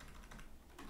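Soft, rapid typing on a computer keyboard while writing CSS code, a quick patter of faint keystrokes over a brief moment.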